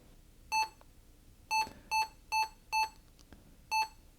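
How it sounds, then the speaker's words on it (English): ThinkPad T60 laptop emitting error beeps at startup after a RAM swap, six or so short identical electronic tones in an irregular sequence, clear and close against a quiet background. "And it's making lots of beeps."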